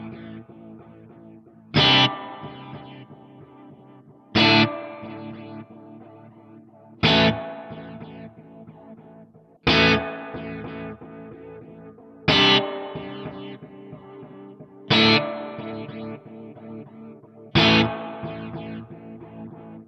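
Electric guitar played through a UAFX tape echo and reverb pedal with gritty input drive: seven evenly spaced strummed chords, each with a sharp attack followed by a long, smeared echo and reverb tail, with no voices.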